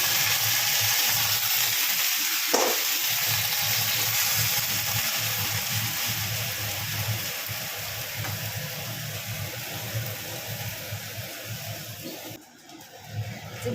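Oil sizzles and fries steadily in a pan with a continuous hiss throughout, a brief knock partway through, and no talk.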